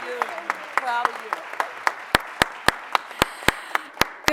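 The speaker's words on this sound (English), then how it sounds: "Please give a round of applause for Donna Bailey." Applause at a mayoral press conference as a new administration appointee takes the podium, scattered clapping that turns into evenly spaced sharp claps while a voice talks over the start.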